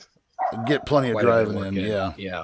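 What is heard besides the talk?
dogs yapping in background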